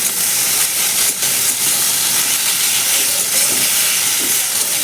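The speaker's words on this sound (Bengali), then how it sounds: "শাকটা ভালো করে ভেজে নিই" Boiled leafy greens frying in a pan, giving a loud, steady, close sizzle and hiss that runs without pause.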